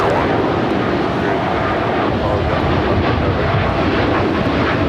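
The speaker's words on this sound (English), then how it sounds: "This is American Airlines Flight 27 taking off to Tokyo on the 787-8 Dreamliner." An American Airlines Boeing 787-8 Dreamliner takes off from LAX bound for Tokyo, a loud, steady broadband engine roar that fills the whole stretch with no letup and no voices.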